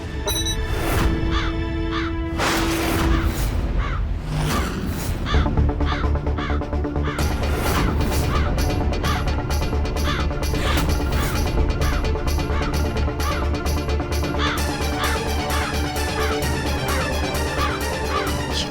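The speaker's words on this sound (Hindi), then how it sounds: "कौवे की आवाज लग रही है।" Harsh crow caws inside a house, repeated and loud, mixed with dense dramatic music and crashing effects that run throughout without pause.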